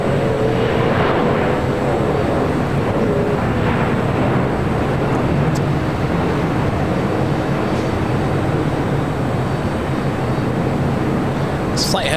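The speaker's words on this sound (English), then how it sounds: "runway 25 right, clear for takeoff" A jet airliner takes off from runway 25 right at LAX, a loud, steady broadband roar that holds for the whole stretch, with faint talk beneath it.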